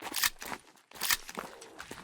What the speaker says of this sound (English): That is the sound of a fracture.